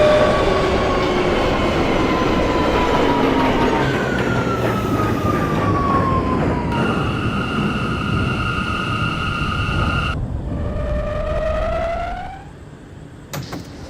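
An R179 subway train in the openBVE simulator runs steadily and loudly, with rising and falling motor whine and tonal hums, then slows and quiets near the end.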